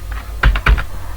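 Keys tapped on a computer keyboard while entering an Excel formula, a few close, loud clacks in a quick short burst over faint background hum, with no speech.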